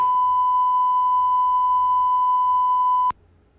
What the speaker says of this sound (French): Désolé hein, pour le bip.